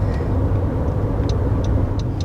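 A 2021 Honda CR-V rolls along a road beside another car, giving a steady, close rumble of engine and tire noise with a few faint high chirps. No one speaks.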